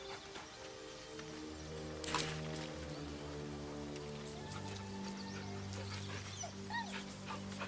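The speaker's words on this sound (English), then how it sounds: "Doggo puppy." Puppy whimpering in Baldur's Gate 3, a few soft high whines rising over a steady game backdrop of rain-like hiss and low droning music, with a brief louder burst partway through.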